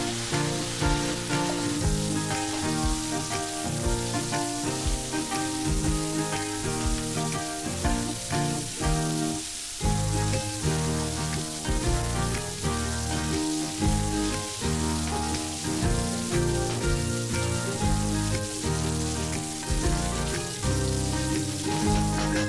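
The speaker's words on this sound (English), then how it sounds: "Then simply add some more oil and fry it until the beef is nice and crispy." Beef frying in hot oil until crispy for a Goan chilli fry, a dense, steady sizzle with constant crackling and popping that fills the whole stretch without a break.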